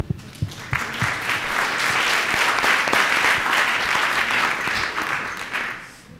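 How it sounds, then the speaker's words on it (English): Sustained audience applause at an alumni event in New York, steady clapping from a large crowd that swells quickly and tapers off near the end. "Please applaud."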